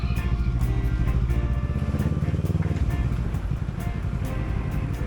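Steady road traffic noise with car and motorcycle engines droning and passing nearby, a continuous rumble with no clear speech over it.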